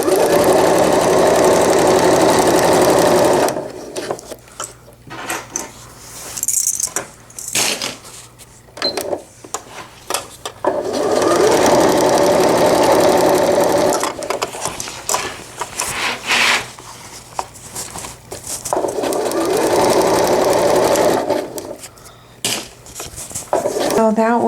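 A sewing machine stitches two diaper cover pieces together, running in long loud bursts separated by pauses filled with fabric handling and clattering, and a voice briefly speaks between runs.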